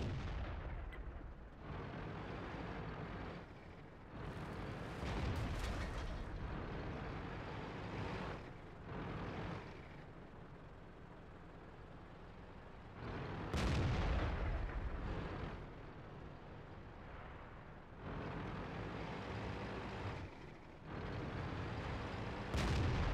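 Tank gun fire from an AMX 13 90 in World of Tanks on Sand River, a series of heavy booming shots with rumbling engine noise between the blasts.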